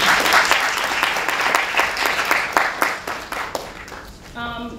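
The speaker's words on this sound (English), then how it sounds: "start off with another round of applause to our panelists for making it here" Audience applause for panelists at a women-in-science leadership event, loud dense clapping from many hands that gradually thins out and fades toward the end.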